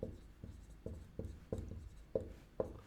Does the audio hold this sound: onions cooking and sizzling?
no